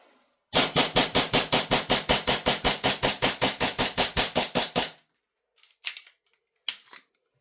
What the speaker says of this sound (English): we did fire all rounds off